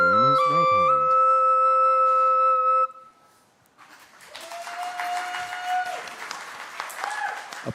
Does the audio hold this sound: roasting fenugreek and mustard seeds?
no